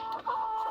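Pet chickens cluck steadily while being fed, a close, continuous run of short fowl calls with a sustained tonal note through the middle, no talking.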